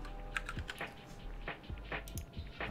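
Rapid keystrokes on a computer keyboard during a coding livestream, a close, steady patter of clicks with uneven rhythm and no talk.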